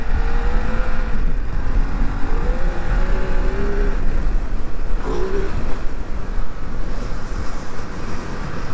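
A Ducati Desert X motorcycle ridden off-road on dirt in rally mode, its engine a loud, steady close drone with shifting pitch and wind buffeting throughout, without speech.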